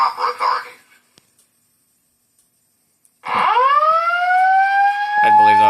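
A Simplex 4008 voice evacuation fire alarm system sounds indoors, a loud close electronic siren tone sweeping upward and then holding steady, coming in after a brief burst of sound and a few seconds of near silence.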